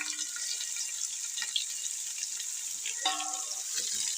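Chopped onions tipped into hot oil with popping mustard seeds, urad and chana dal for a Tamil tomato thokku, giving a steady, close hiss and sizzle with brief crackles throughout, no talking.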